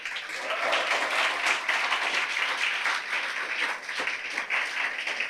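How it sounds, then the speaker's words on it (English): Ceremony audience at a scholarship award event giving a steady round of applause, moderately distant, continuous clapping with slight swells over several seconds. "let's end it with a key round of applause for me."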